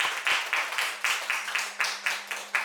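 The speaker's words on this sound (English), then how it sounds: "let's give a huge round of applause to Professor Thomas Berger for his brilliant insights" A lecture-hall audience claps for Professor Thomas Berger after his talk, giving a moderately loud round of applause with a steady pulsing rhythm that runs through the whole moment.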